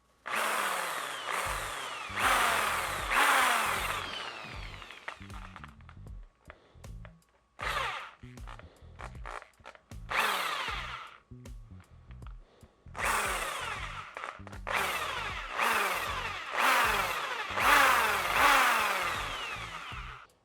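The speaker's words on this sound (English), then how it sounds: "now we got to use an actual drill" Power drill fitted with a countersink bit boring into PVC sheet for a reptile enclosure: loud whining bursts of drilling in several runs, with quieter gaps of short spurts between them, close up and without talk.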